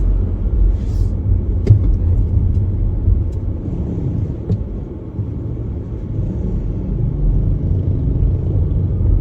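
Electric car driving on a road in the Philippines, heard from inside: a steady, fairly loud low rumble of tyres and road noise with a couple of faint knocks.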